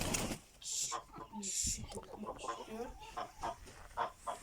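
Several chickens cluck on and off at close range, mixed with other farmyard noise and some overlapping human talk throughout.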